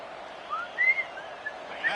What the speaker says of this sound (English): You know what I'm whistling?